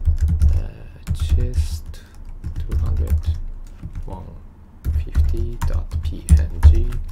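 Keyboard typing on a computer while coding a Java program, a quick run of clicky keystrokes in bursts under a man's intermittent speech.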